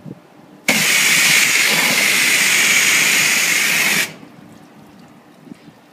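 A strong spray of water hisses steadily for about three and a half seconds against a waxed BMW 5 Series or 3 Series car, then cuts off abruptly, leaving quiet background.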